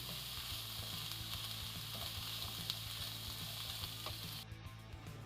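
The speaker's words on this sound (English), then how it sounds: "And fry them in the pan. 5 minutes later. Add the onion." Onion frying in a pan gives a steady, faint hiss and sizzle with a few soft clicks, heard close but at low level with no voices.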